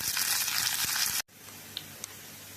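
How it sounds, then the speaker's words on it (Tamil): Shallots, curry leaves and dried red chillies sauté in hot oil for sambar, giving a steady, close sizzle that cuts off abruptly, followed by quieter frying with a couple of small pops. "ஒரு சின்ன வெங்காயம் நல்லா கட் பண்ணி போட்டுக்கலாம் கருவேப்பில போட்டுக்கலாம் காஞ்ச மிளகாய் புல்லு போட்டுக்கலாம் இது அப்படியே நல்லா வதக்கி எடுத்துருவோம்"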